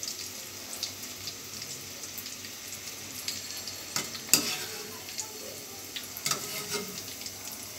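Cauliflower fritters fry in a pan of oil with a low, steady sizzle. Small scattered pops and clicks, including one sharper clatter, sound as they are turned and lifted out.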